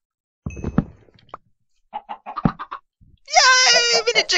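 Chicken clucks from the video game Minecraft, several short bursts with gaps between them, ending in a longer, higher squawking call; no talk over it.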